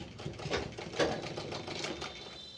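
Sewing machine stitching a handkerchief in a tailoring class, a faint, steady, quick mechanical chatter of the needle running throughout, heard close and alone.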